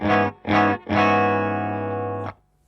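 A distorted electric guitar on a Kelt Signature Axel Bauer plays two short stabbed chords, then a long sustained chord that rings with a light spring reverb tail before cutting off.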